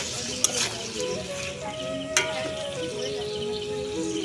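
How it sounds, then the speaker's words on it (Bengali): Spice paste and potatoes sautéing in a pan for Bengali egg curry, with a steady low sizzle under stirring, a couple of sharp utensil clanks and a faint tonal hum running through. "আলুগুলো দিয়ে কিন্তু মশলাটাকে এবার আমি ভালোভাবে কষিয়ে নেব"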